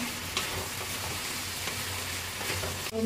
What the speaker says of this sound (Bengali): ফুলকপি আলু একসঙ্গে দিয়ে আরও কিছু সময় এই সঙ্গে কষিয়ে নেব